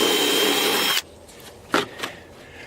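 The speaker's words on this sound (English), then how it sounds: "Okay, so I drilled a little hole there." A power drill boring a small hole into a black walnut tree, a steady whirring for about a second that cuts off abruptly, followed by a few faint knocks and handling noises.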